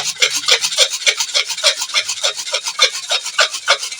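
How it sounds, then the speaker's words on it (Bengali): Onion being grated by hand on a kitchen grater for a beetroot dish, a steady run of quick, close rasping strokes in an even back-and-forth rhythm, with no talking. "এবারে আমি এর সঙ্গে দিয়ে দেব একটি পেঁয়াজ এটাকেও কিন্তু এই গ্রেটারের সাহায্যে আমি গ্রেট করে নেব"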